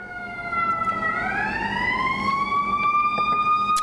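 A wailing emergency siren rises and holds its pitch, loud and fairly close, over the steady hum of traffic.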